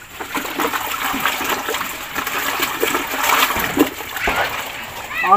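Water splashing and trickling at close range, steady and fairly loud for several seconds, with brief voices and other activity mixed in.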